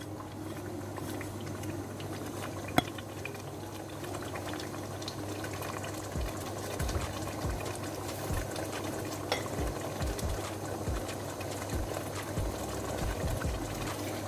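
Turnip and mutton curry with spices being stirred in a pot: a quiet, steady bubbling simmer with soft scraping and stirring sounds throughout.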